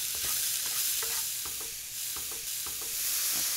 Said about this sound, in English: I'll sauté these for just a few minutes until the mushrooms are tender.